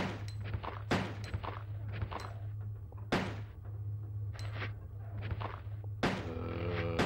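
Gunshots from a handgun in Resident Evil 2 on the Nintendo 64, several sharp reports spaced irregularly over a steady low game hum, fairly loud and close.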